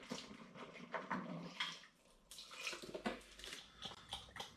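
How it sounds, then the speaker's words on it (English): Spring water pours and splashes into a beer brewing vessel close by, an irregular gurgling stream with brief pauses and no voices. "I'm going to wash that through with some spring water"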